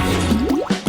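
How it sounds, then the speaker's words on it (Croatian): Watermelon juice drips from a small bottle into a bowl of water, giving a few close, quick liquid plops that rise in pitch, with no voices. "Zatvaram i kapljem u vodu."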